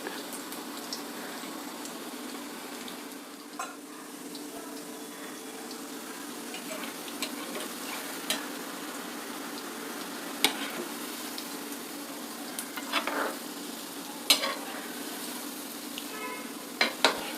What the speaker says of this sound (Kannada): ಇದು ಫ್ರೈ ಆಗೋದಕ್ಕೆ ಸ್ವಲ್ಪ ಟೈಮ್ ತಗೊಳುತ್ತೆ